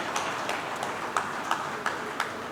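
An audience at an anniversary celebration claps in a thin, steady patter, with several louder individual claps standing out.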